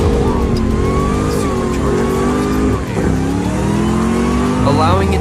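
A Ram TRX pickup truck's engine roars loudly as it accelerates hard, the pitch climbing steadily and dipping briefly as it shifts, sustained and close.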